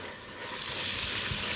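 Bacon sizzles and crackles steadily in a pot after beef was seared in it, a continuous broadband hiss that grows slightly louder, with a few soft low thumps underneath.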